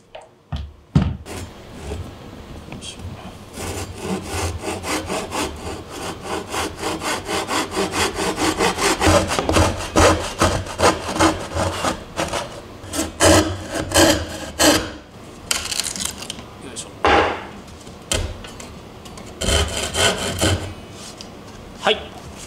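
A jigsaw rasps steadily through plywood, the buzzing cut rising and falling in pitch, broken by brief pauses and a few wooden knocks near the end.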